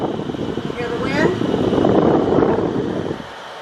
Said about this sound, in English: Hear the wind?